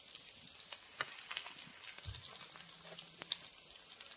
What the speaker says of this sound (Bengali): রসুনটা একটু ভালো করে ভেজে নেব।